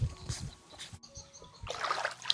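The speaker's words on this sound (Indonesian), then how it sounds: "Kita mandi di sungai." Water splashes and trickles as someone bathes in a river, with soft, uneven dribbles early on and a fuller burst of splashing near the end, close by and fairly quiet.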